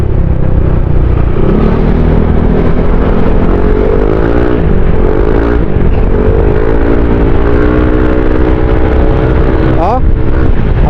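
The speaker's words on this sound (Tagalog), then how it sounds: "Ganda ng takbo ng NMAX." A Yamaha NMAX 155 scooter fitted with an FCC pulley drones loudly while riding, rising in pitch as it accelerates with wind noise throughout, and a voice talks briefly.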